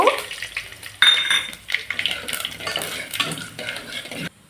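Cumin seeds and curry leaves being stirred in a hot pan, with scraping clinks of a spoon against metal and light sizzling, in short uneven bursts close by.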